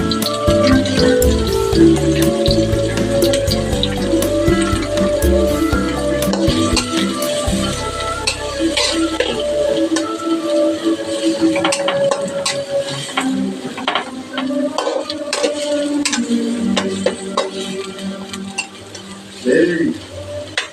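Onion and green chilli frying in a pan make a close, loud sizzle with clinks and scrapes of a utensil against the pan, over a humming tonal background that fades partway through.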